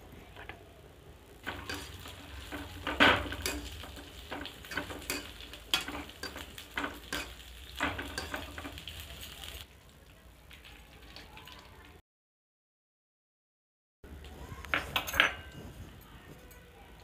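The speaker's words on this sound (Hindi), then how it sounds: "अब ये हमारे ड्राई फ्रूट भुन चुके हैं अच्छे से।" Coconut, cashews, fox nuts, almonds and raisins are stirred and dry-roasted in a pan for harira, with soft sizzling and a spoon scraping and clinking at close range, a brief silence, then more stirring.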